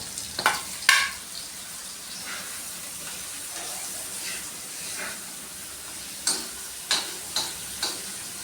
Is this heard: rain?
no